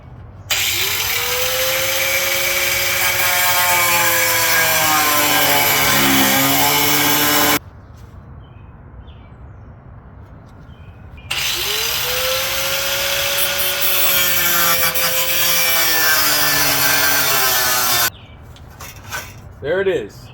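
A grinder cutting through a faded, broken carbon fiber vented hood on a G35 makes a loud, steady high-pitched whine in two long passes, pitch sagging under load, with a quieter pause between and brief clatter at the end.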